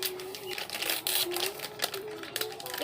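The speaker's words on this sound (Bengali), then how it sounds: "চাকু নিয়ে এসেছি, দিয়ে পনির কাটবো" A kitchen knife chops through a block of paneer on a cutting board, giving a run of quick, close tapping clicks with a voice faintly behind.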